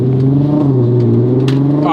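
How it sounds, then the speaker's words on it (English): A VW Golf Mk5 R32 engine revs hard and loud up close in first gear, its droning pitch holding strong as it pulls forward. "So let's do a pull quickly from first gear."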